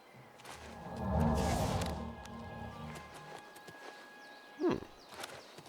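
Horse hooves clopping in the video game Oblivion, a few soft walking steps with a louder thud near the end, heard amid quiet game ambience.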